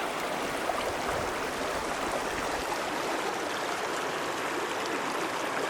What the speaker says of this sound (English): Here comes Sunrise Creek.